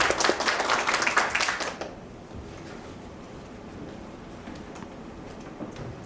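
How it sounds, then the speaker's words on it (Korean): A burst of audience clapping at the opening of an urban architecture forum, fairly dense for about two seconds and then cutting off, leaving a quiet room tone with faint stray noises. "감사의 의미로 이 포럼을 개회하면서 대신해서 김기수 교수님께 뜨거운 박수를 보내드림으로"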